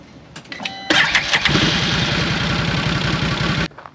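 A Can-Am Defender UTV engine cranks briefly and catches at close range, then settles into a loud, steady rhythmic idle before cutting off abruptly near the end.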